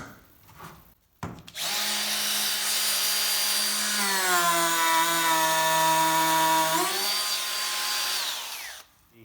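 A Bosch cordless router running on a 3 amp hour battery makes a full-depth cut into wood, sounding as a loud, steady high-pitched whine that holds for several seconds and then winds down at the end.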